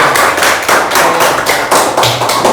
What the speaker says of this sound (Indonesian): Oke, kasih tepuk tangan lagi